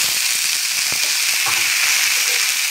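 Fresh green peas hit hot oil in a pan for kachori filling, producing a loud, dense, continuous sizzle with a few small pops and clicks throughout.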